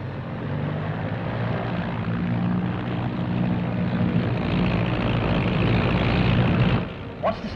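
A steady droning aircraft engine hums loudly and continuously, a propeller plane just taken off passing overhead, then the drone dips near the end.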